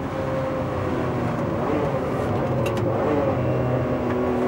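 A Ferrari 599 GTB Fiorano engine roars continuously as it accelerates, loud and close, a dense steady growl with no voices.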